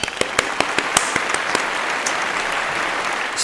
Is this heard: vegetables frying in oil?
no